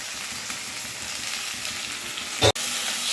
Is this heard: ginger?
yes